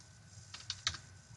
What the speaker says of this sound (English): I'm going to type it in there.